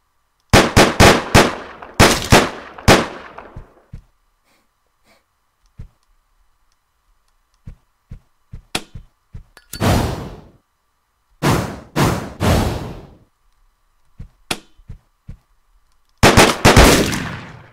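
Sharp 9mm pistol shots from the Deadbolt video game ring out in clustered bursts, the loudest volleys at the start, middle and end, with scattered single shots and quiet gaps between them.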